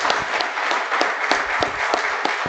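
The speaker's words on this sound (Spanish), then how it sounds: "lo mejor que puede cerrar este encuentro es un fuerte aplauso para quienes nos han" An audience claps together at the close of a book presentation on mental health and cancer, a sustained dense round of applause for visiting doctors, close and fairly loud throughout.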